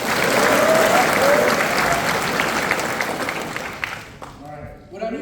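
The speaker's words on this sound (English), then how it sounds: "Graduates, let's give them a round of applause." A crowd at a combat medic graduation ceremony at Fort Sam Houston breaks into loud, sustained applause that fades out near the end, leaving a few voices talking.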